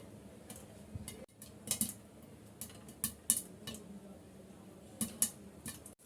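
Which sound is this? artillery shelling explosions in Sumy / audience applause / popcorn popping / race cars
popcorn popping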